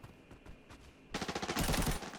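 A patrol in the Arena Breakout shooter opens fire after a quiet stretch of faint taps, launching rapid, loud automatic bursts that continue to the end.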